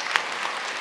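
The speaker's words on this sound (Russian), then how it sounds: "Аплодисменты, дамы и господа." A theatre audience applauds at a gala opening night, a brief burst of dense clapping heard from within the hall, steady and fairly loud, with no talking over it.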